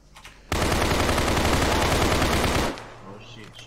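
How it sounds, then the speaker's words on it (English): Sustained burst of automatic gunfire in the ARMA 3 video game during a bank raid, loud and continuous for about two seconds, then dropping to quieter background sound. "Shots fired."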